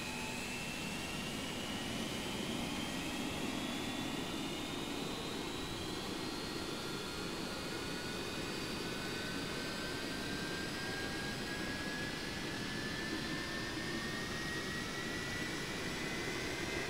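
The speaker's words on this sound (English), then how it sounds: "Love the sound set with this airplane, the screaming of that old engines, it's just amazing." An old jet engine spooling up on a simulated aircraft in X-Plane 11, a steady roar with a rising, screaming whine climbing in pitch throughout, continuous and fairly quiet.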